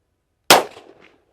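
A single loud gunshot from a 10mm 1911 pistol cracks sharply out of silence, then dies away in a brief, ragged decay.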